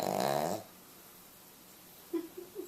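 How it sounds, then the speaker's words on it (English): A Cavalier King Charles spaniel gives one loud, buzzing snore at the start, then goes quiet before a few soft snuffling breaths close it out. "This is really the snoring dog."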